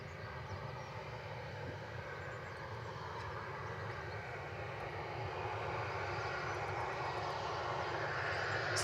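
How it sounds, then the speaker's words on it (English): A Jet2 Boeing 737-800 passing at Manchester Airport: a steady, broad jet-engine roar that slowly swells louder over about nine seconds, with no talk. "This aircraft, flight 809, this is a 737-800."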